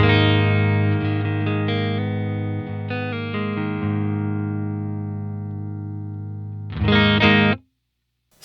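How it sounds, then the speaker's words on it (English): A clean electric guitar played straight into an amp simulator, with sustained ringing chords that change every second or so, then a brief louder strummed burst near the end before cutting to silence. "This is the clean sound straight into that amp sim."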